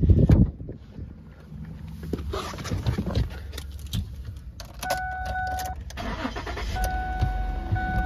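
A used 2010 Ford Edge with 214,677 miles cranks and fires up with a short loud burst, then settles into a smooth, quiet, steady idle heard close by.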